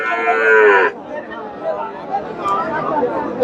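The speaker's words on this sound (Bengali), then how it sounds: "শাহিওয়াল গাভী বাচ্চা" A Sahiwal cow gives one loud, close moo lasting about a second at a busy cattle market in Chandaikona, Sirajganj, followed by general crowd chatter and people talking nearby.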